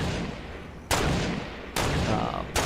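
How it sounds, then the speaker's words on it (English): Sniper rifle shots from a Fortnite battle royale match, three sharp loud cracks spaced about a second apart, each with a short ringing decay over faint background noise. "I'm hearing sniper shots go back and forth"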